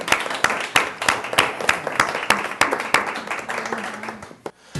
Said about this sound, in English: Round of applause for Action United.